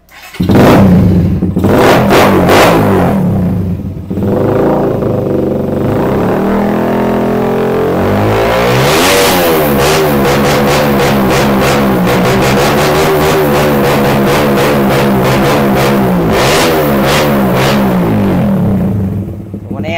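A Suzuki Raider R150 motorcycle with its silencer removed, custom cafe racer build, revs loudly and repeatedly up close, with sharp throttle blips and a raw, unmuffled exhaust rasp sustained throughout.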